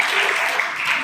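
A church congregation at a Christmas service claps together in a short, dense burst of applause, loud and close, with no speech over it.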